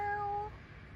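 A cat gives one clear, close meow lasting about half a second, then fades into quiet low background noise with no talking.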